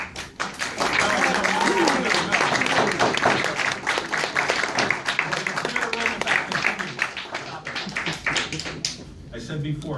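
Audience applause in a civic meeting hall, dense broadband clapping filling most of the stretch at steady loudness, with voices murmuring underneath and the clapping thinning toward the end.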